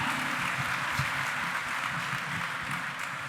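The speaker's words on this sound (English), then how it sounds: "Can Janine have a big round of applause?" Audience applause at a Dog Soldiers 20th anniversary event with Sean Pertwee and Neil Marshall, a steady, sustained clapping from a crowd filling the room for several seconds.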